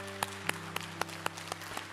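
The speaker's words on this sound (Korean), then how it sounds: "우리 옆자리에 계신 모든 분들과 함께 박수로 서로 환영하도록 하겠습니다." A church congregation gives a brief round of welcoming applause at the start of a worship service, with evenly spaced loud claps over a quieter room and a steady low hum.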